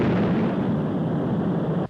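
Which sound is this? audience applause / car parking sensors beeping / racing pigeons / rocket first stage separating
rocket first stage separating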